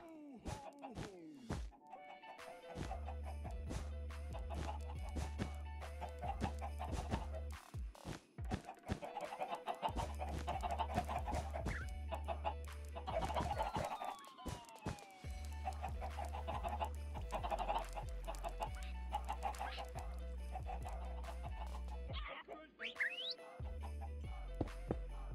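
Chickens in a block-building video game, with scattered short clucks and bird calls alongside jingles, tones and thunks from the game over about twenty-five quiet seconds.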